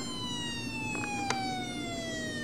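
A loud electronic siren holds a steady whining tone, sliding slowly downward in pitch, with a couple of brief clicks partway through.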